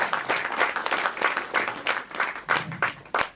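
An audience at a Kannada film audio launch breaks into applause, a short burst of dense clapping in several surging waves, fairly close and loud.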